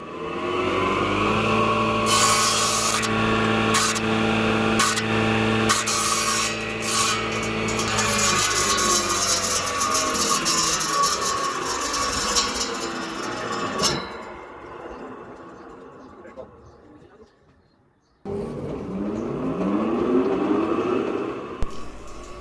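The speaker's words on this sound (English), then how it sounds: "I can cut the length of pieces using table saw." A table saw cuts wood pieces to length with a loud, sustained whine and a rasping bite through the stock. The blade then spins down into near silence before a fresh start.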